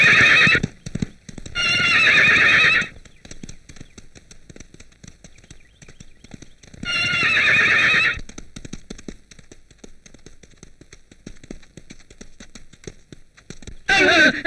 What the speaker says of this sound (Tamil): அது முரட்டு குதிரை யாருக்கு அடங்க மாட்டேங்குது.